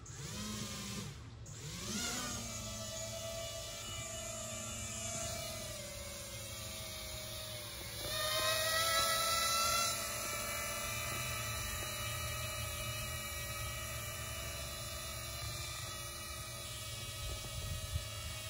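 A small drone lifts a fishing line up into a tree to set rigging, its motors giving a steady close buzzing whine that holds for the whole stretch, with the pitch shifting and briefly rising as it climbs and manoeuvres.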